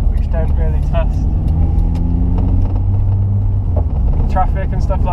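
A Peugeot 106 Rallye fitted with a new Nissens radiator, heard from inside while driving as a loud, steady low engine and road rumble. A voice can be heard faintly above it at times.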